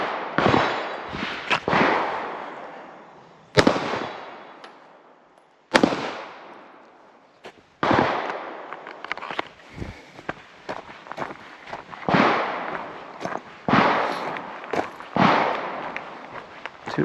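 Gunshots crack sharply and loudly during a shooting qualification test. About a dozen shots come irregularly, some singly and some in quick pairs, and each one rings out briefly with an echo.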